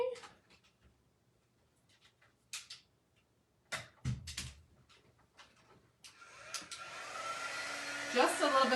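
A hair dryer switches on partway through and blows steadily at close range, drying fabric paint on a pillow case; scattered handling noises and brief clatter come before it starts.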